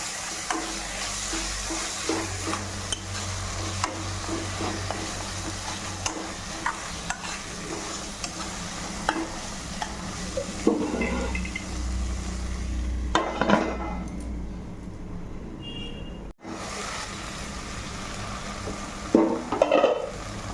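Chili paste stirred into frying spice masala for goat trotters, a constant sizzle with repeated spatula scrapes against the pan over about twenty seconds, close and steady, with a brief faucet-like splash and no talk.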